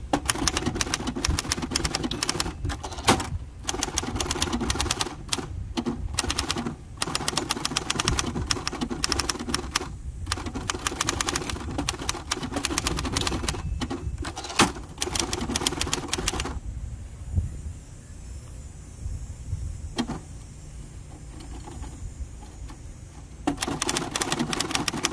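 Rapid clacking keystrokes from a 1964 Hermes Ambassador manual typewriter typed outdoors, steady bursts with carriage sounds, pausing briefly near the end before resuming, with faint birds and ambient background.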